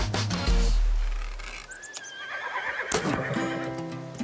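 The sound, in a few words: horse neighing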